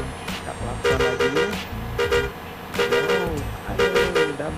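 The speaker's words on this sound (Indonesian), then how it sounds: "Kita klakson lagi." A bus on a city road in Probolinggo sounds its musical horn in repeated tooting bursts, loud and close over the rumble of the engine and traffic.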